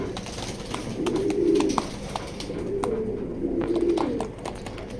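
Racing pigeons cooing inside a pigeon loft, soft low repeated coos close by, with faint clicks and background rustle.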